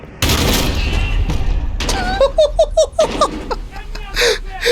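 Shotgun blast from the video game Call of Duty: Modern Warfare, a loud sudden boom at the start followed by a dense burst of gunfire and battle noise, with short shouted voice calls over it.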